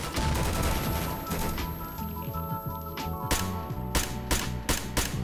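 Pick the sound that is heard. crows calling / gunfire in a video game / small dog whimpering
gunfire in a video game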